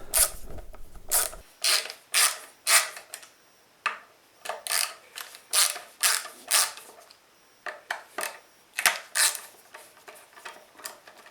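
Old handmade project piece in a shed has its neck worked off, producing a run of repeated creaking, ratchet-like mechanical bursts in an irregular rhythm, close and moderately loud.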